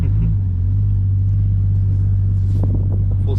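A Nissan Skyline R34 M-Spec Nur with a Nismo clutch rumbles deep and steady while being driven, its low engine drone loud and close with a slight rise near the end.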